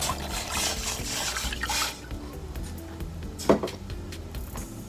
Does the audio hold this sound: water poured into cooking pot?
yes